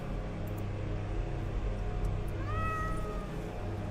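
A cat meows once in The Excavation of Hob's Barrow, a short rising and falling cry that comes in near the end over a steady low background hum of game ambience.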